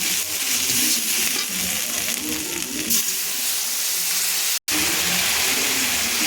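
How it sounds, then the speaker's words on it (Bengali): Spices with turmeric powder sizzle steadily in a hot pan while being stirred, a close, continuous frying hiss with light scraping, cooked for a katla fish head muri ghonto, broken once by a momentary gap. "এবার এটাকে একটু নাড়াচাড়া করে ভাজা ভাজা করে"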